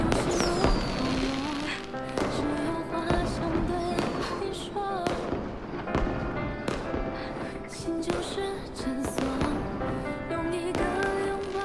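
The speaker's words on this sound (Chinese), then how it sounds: "好漂亮的烟花！" Fireworks pop and crackle in repeated sharp bursts, some spaced and some clustered, over sustained music.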